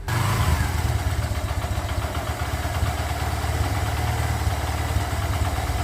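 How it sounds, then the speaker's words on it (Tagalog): Kawasaki Barako 3 fuel-injected motorcycle engine running rough close by, a steady low chugging idle that stutters and cuts unevenly, loud and alone. "Ayan, maririnig nyo naman mga boss, ano? Andar pa lang, putol-putol na yan, budol-budol."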